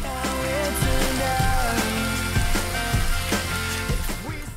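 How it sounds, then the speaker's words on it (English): Cabbage, green pepper, ketchup and Worcestershire sauce stir-fry in a pan, a loud continuous sizzle close up, broken by repeated clinks and scrapes of a utensil stirring the vegetables. "Now stir fry until tender."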